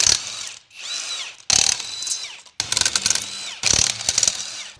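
Ratchet wrench loosening the lug nuts on a Boatmate boat trailer wheel, up close and loud, in four bursts of rapid clicking separated by short pauses.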